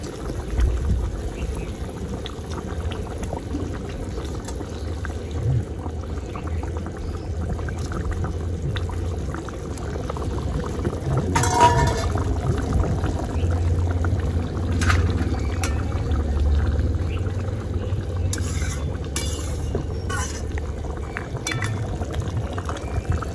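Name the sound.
pangas fish dropped into simmering curry gravy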